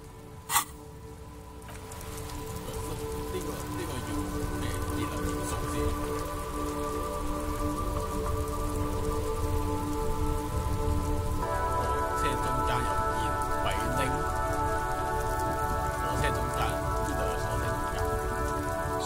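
Steady rain hisses throughout a scene in the video game Disco Elysium, with a brief sharp sound near the start and a soft tonal music bed layered underneath the downpour.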